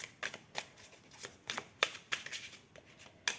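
Tarot cards are shuffled and drawn, producing a series of quick, crisp riffling and slapping bursts at uneven intervals, close and fairly soft, without talking.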